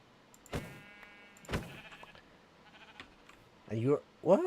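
Sheep bleat in Minecraft within the ATM9 modpack, with short bleats near 0.5 and 1.5 seconds and more at the end, under a quiet game backdrop and some faint talk.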